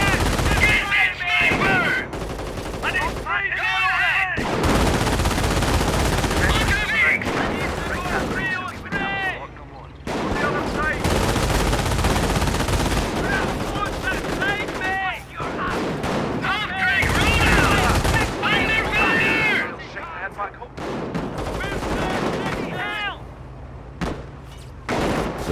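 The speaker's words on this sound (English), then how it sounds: "We are coming under fire!" Company of Heroes video game battle with sustained gunfire: dense rifle and machine-gun bursts rattling almost continuously, with voices shouting over the shooting.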